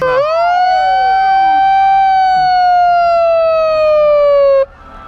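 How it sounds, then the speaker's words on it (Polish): A loud, close siren on a pilgrimage holds one long wailing tone that slowly falls in pitch, then cuts off abruptly near the end. "Chociaż ten dźwięk tej syreny to będzie się śnił po nocach."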